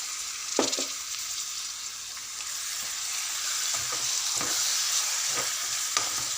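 A spoon stirs tomato paste into a banana curry in a sizzling pan, with a few scattered scrapes and knocks against the pan over a steady, close frying hiss; no one talks.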